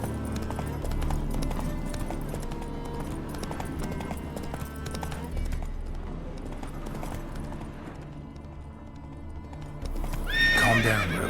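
A horse in The Witcher 3 gallops with steady clip-clopping hoofbeats over game music, then gives a loud, sharp neigh at the end.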